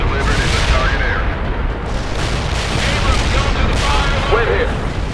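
Dense, sustained rumble of an artillery barrage in the World in Conflict video game, with heavy overlapping blasts rolling continuously and a voice talking faintly underneath.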